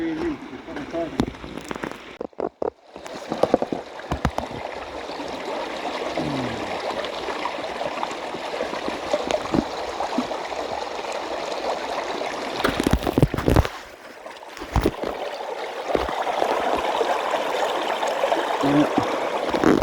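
Creek water runs over bedrock in a steady trickling, splashing wash, close by and continuous, with brief interruptions and louder bursts partway through.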